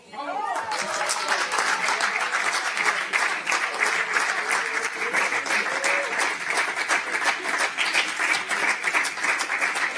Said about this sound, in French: des applaudissements nourris des bancs socialistes